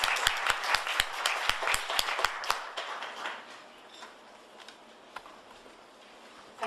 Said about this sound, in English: Please a warm applause.